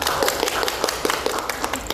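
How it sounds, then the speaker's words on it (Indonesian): A few people clap during a relaxed podcast conversation, a short, close run of sharp, uneven claps over faint background. "Luar biasa, tepuk tangan dong."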